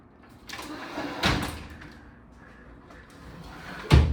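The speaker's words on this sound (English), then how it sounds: "I guess the closet door is off the track" A sliding closet door in a hotel room, off its track, scrapes and thuds as it is moved, with two sharper knocks standing out, one midway and a loud bump at the end, over quiet room tone.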